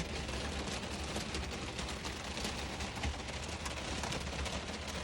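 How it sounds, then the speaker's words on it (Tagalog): Heavy rain in a wilderness setting pours down continuously, a thick, constant hiss with faint crackling patter spread evenly across the whole stretch and no talking. "Lakas ng ulan."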